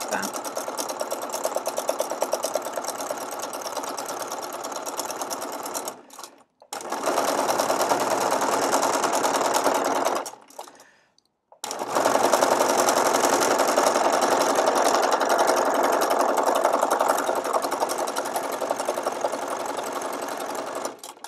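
Sewing machine stitching a decorative textile card, embroidering rows of tucks, runs in three steady whirring bursts split by two short pauses, loud and close with no talking.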